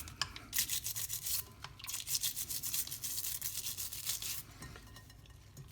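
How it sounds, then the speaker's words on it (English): A stiff brush scrubs rapidly around a bar dispense valve in warm soapy water, a close, rhythmic rasping in bursts with brief pauses, and faint watery sounds underneath. "Take the brush again, clean around the buttons."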